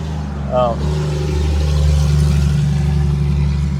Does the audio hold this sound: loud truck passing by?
yes